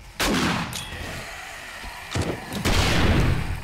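Round grenades in the zombie survival game Undead Legacy exploding on impact: several heavy, loud booms with deep rumbling tails, two big blasts separated by a smaller pair of quick bursts, with no talk over them.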